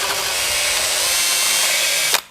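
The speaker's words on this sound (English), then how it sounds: "I'm just running my drill through here again" A power drill reams steadily through a hole in metal for about two seconds, then cuts off abruptly with a brief clatter at the end.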